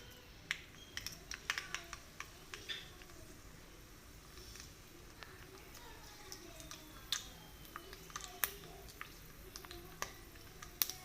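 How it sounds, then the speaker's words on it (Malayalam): Mustard seeds pop in hot coconut oil while tempering a pineapple pachadi, giving faint, sharp crackles that burst irregularly in small clusters over a quiet background hiss. "കടുക് പൊട്ടിയിട്ടുണ്ട്."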